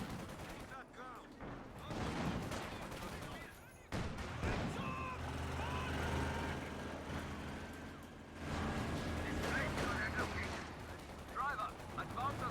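Incoming artillery fire in the Company of Heroes real-time strategy game, repeated heavy blasts and crackling gunfire rolling under game voices, with loud rumbling bursts spread across the clip.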